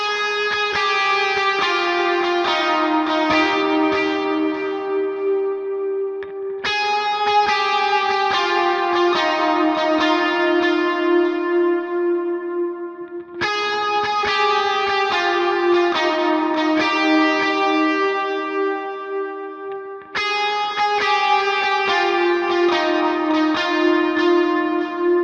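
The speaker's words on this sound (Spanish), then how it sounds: "Listo, amigos, vamos con el intro de esta canción y suena así." Electric guitar plays the intro of a worship song with overdrive, delay and reverb, four repeated phrases of sustained, echoing notes ringing loud and alone without speech.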